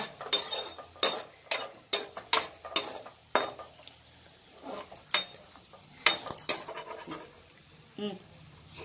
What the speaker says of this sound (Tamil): இருந்து முந்திரியை எடுத்துடலாம் அது வரைக்கும் நல்லா வதக்கிட்டே இருக்குங்க நல்லா கோல்டன் ப்ரௌன் வந்ததுக்கு அப்புறம் எடுத்துடலாம்